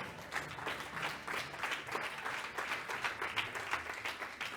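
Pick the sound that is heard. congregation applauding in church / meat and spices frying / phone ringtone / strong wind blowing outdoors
congregation applauding in church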